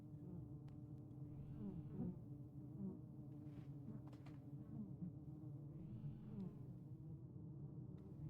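Bees buzzing in the Fort Solis game, a faint steady insect drone over a low ambient hum, with a couple of louder buzzy swells passing by.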